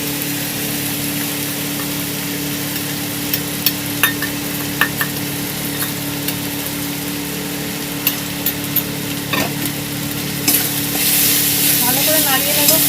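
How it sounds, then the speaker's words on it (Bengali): Spices being stirred in a frying pan for a Bengali rohu fish curry with raw mango, a steady scraping sizzle with sharp spatula clicks against the pan, close and continuous, growing louder near the end. "এটাকে ভালো করে নাড়িয়ে নেব।"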